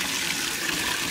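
Water pours steadily into a dog's water bucket at a kennel for big Rottweilers, a continuous close rushing splash with no talk.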